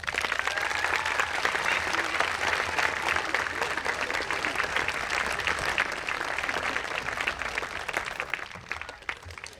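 Sustained applause from a graduation audience at the 2019 Pathfinder Tech commencement, steady dense clapping filling the hall for about nine seconds before tapering at the very end.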